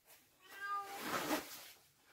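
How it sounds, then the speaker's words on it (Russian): Cats yowling outdoors, a drawn-out caterwaul that rises and swells over about a second, moderately faint and distant, heard alone without talk. "Кошки орут."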